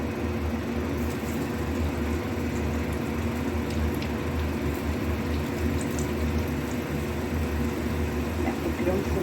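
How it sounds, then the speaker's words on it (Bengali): Peas kachuri frying one by one in hot oil, a steady bubbling sizzle that holds on evenly and close throughout. "এবার মটরশুঁটির কচুরিগুলো এক এক করে ভেজে নেব।"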